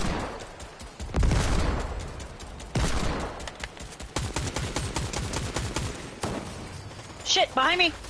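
Video game gunfire in Fortnite comes in rapid automatic bursts and single cracking shots, loud and close, mixed with shouted talk from a player over the action.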